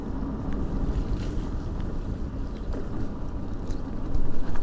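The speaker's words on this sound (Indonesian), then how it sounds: "Yang kedengeran hanyalah road noise, suara ban menggesek aspal karena ini lagi hujan" A constant broad rushing noise of tires rolling over wet, rain-soaked asphalt inside a Honda EM1 e: electric scooter, steady and close, with no engine sound or voices.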